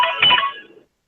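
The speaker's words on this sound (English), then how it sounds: "Yeah, that's my phone." A phone gives a single short electronic ring or chime, loud and close, fading out within a second.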